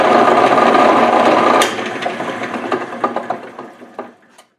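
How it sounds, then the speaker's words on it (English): An angle grinder with a sanding disc shapes a metal clutch arm for a 1956 Chevy gasser, a loud steady whir that spins down and trails off in a few fading scrapes. "grinder with some sanding disc on it and try to shape that and get it down to the size that I need"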